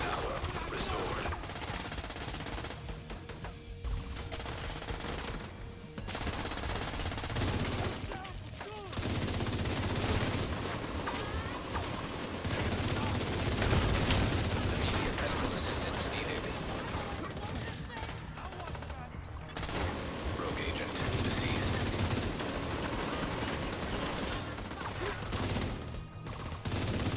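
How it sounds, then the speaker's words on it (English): A minigun fires in a video game, a long sustained rattling barrage of rapid gunfire, loud and dense, with brief pauses between bursts and a voice talking over parts of it. "Minigun power restored."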